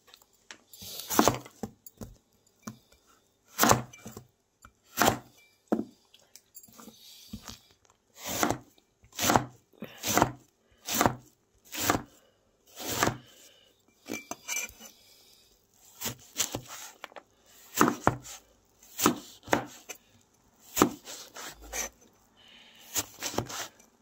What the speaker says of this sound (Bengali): এইভাবে আমি পুরো লাউটা কুচিয়ে নেব।